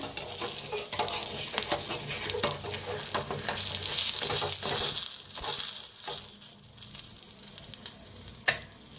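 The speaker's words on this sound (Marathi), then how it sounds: "अंडी बी छान अशी फ्राय व्हायला लागले ते आपली." Eggs fry in a pan with a steady, fairly loud sizzle and crackle that runs the whole time, with occasional stirring or scraping and one sharp pop near the end.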